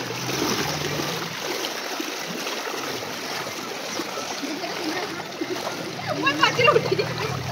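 Floodwater in a submerged village at Gudipada churns and splashes continuously nearby, with bursts of splashing growing stronger toward the end.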